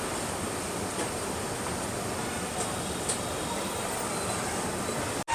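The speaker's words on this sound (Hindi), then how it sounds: "अभी अपनी ट्रेन तो निकल चुकी है वर्धमान जंक्शन से" Shatabdi Express train running on the Howrah–NJP route after leaving Barddhaman Junction, heard as a steady, loud broadband rumble of wheels and carriage noise that continues throughout, with a brief break near the end.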